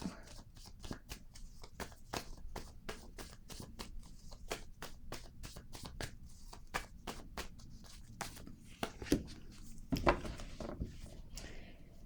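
Cards are shuffled for a tarot-style reading, a steady run of close, crisp riffling flicks and soft slaps that continue for about twelve seconds at modest volume, with no one speaking.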